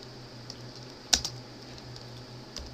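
A Linux terminal command is typed on a computer keyboard: a few soft, scattered key clicks with one sharper cluster of taps in the middle, close and quiet, with no talking.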